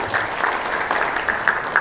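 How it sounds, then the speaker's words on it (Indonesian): A crowd at a West Java government meeting with business leaders claps steadily and evenly for a short burst, loud and close. "Tepuk tangan ya."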